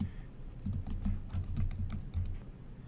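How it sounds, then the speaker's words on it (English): Rapid keystrokes on a computer keyboard as code is entered, an uneven run of close, clicky taps and clacks with short pauses and no talking. "So to do so, let me type in the code."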